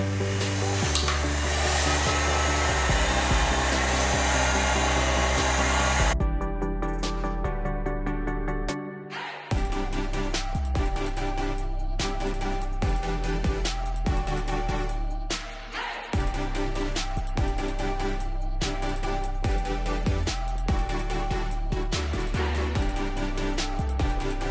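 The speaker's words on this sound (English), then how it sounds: "I'm going to heat this hose up" A hot-air blower roars steadily up close while heating a radiator hose on a DF Goblin, its loud whooshing hum shifting in tone at a few moments as it runs almost without a break.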